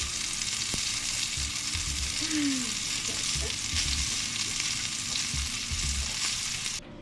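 Jack Crevalle fish fries in hot oil with a loud, dense, continuous sizzle and crackle that holds steady throughout, with a few faint clicks underneath and no talking.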